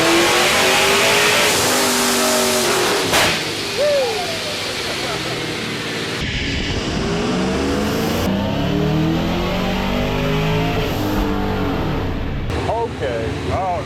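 A Procharged, supercharged Pontiac Trans Am engine accelerates hard with a loud, close, rising roar that climbs repeatedly through gears, while excited voices talk over it.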